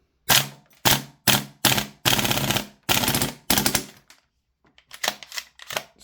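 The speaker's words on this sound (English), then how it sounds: "Did start to spit a little bit, which isn't abnormal for something doing such a high rate of fire" A B&T APC9-K gas blowback airsoft SMG fires seven sharp, rapid full-auto bursts, loud and close. After a short pause a few weaker, sputtering bursts follow as the gas runs low.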